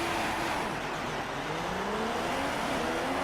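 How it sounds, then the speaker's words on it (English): A Formula 1 car engine revs hard at the race start in the F1 2016 video game, a loud continuous high-pitched roar with a rising pitch sweep and no voices. "Now you have to hold the clutch in, push revs up, and wait until those lights release."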